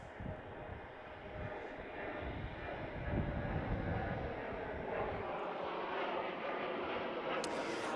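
American Airlines jet taking off from runway 28 at Chicago O'Hare, a steady distant engine roar with broadband rumble that holds at a constant level throughout.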